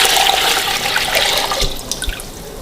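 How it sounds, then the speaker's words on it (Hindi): Water poured into a cooking pot of chickpea masala for green chana pulao, a steady continuous rushing pour heard alone and fairly close. "हम पानी डाल देंगे इसके अंदर"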